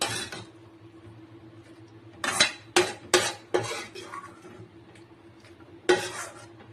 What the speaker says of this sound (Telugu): ఇప్పుడు మనం ఈ పచ్చిమిరపకాయలు టమాటా ముక్కలు ఈ జార్లో వేసేసుకుందాం